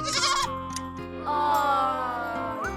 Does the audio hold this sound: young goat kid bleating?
yes